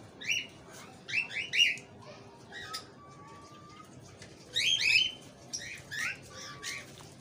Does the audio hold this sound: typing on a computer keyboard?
no